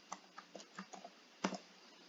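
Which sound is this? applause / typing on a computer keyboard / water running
typing on a computer keyboard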